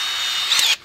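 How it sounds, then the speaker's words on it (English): A power drill bores holes into plywood in a short, loud burst of high whining motor noise that cuts off abruptly. "So now we're just going to drill a couple of holes into the sides"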